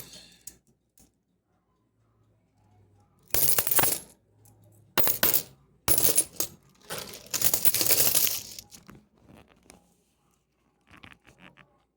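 Many old Brazilian coins of various eras dropping and clattering in a pile, several bursts of dense metallic jingling and pouring separated by short pauses, close and fairly loud, with small scattered clinks at the start and end.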